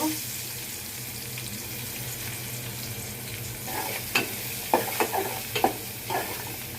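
Chopped onions drop into hot oil in a pan where potatoes have just been fried for a beef tongue dish, raising a steady sizzle with a few sharp spattering crackles near the end.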